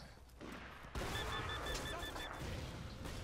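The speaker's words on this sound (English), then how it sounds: "those ground-based fireworks are really cool." Ground-based fireworks exploding in the video game Borderlands 2, a dense crackling fusillade of bursts that swells loudly after about a second and holds steady, with faint whistling tones mixed in.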